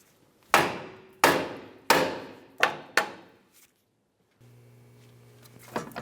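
Hammer blows on the steering knuckle of a 2002-2005 Ford Explorer to break the lower ball joint free: five sharp, loud metallic strikes at a steady pace, each fading quickly, followed by a faint hum and a clatter.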